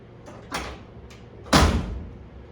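Two mechanical clunks of a classic car door latch shutting, a lighter click first and then a louder, fuller thunk a second later, close by in a quiet space.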